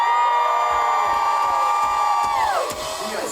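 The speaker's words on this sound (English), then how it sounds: "You guys sound like you're pumped up right now." A concert crowd at Epcot cheers and whoops before a show. Sustained tonal sound rings over the crowd noise, which dips near the end.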